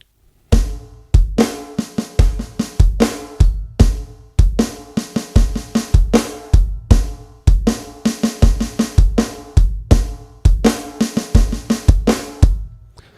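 A drum kit plays a repeating rock beat from a lesson, with punchy bass drum hits and crashing cymbals in a steady loud pattern, close and without talk.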